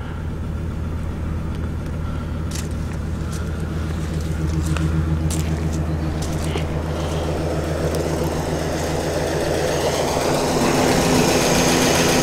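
A V8 car engine idles with a steady low rumble while a large radiator fan whirs at the front, the fan's rushing hiss building louder toward the end; no one speaks.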